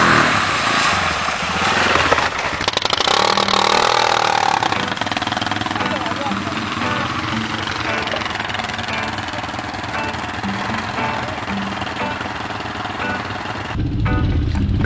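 A trail motorcycle engine drones steadily while riding off-road at night, loud and close with rising and falling revs and rough knocking texture, and talk over it before it cuts off near the end.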